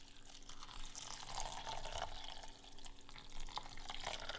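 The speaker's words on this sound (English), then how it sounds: "I'll put enough water just to cover the porridge" Water poured over porridge oats in a bowl makes a soft, steady trickling and splashing, faint and close, running continuously with small liquid bursts.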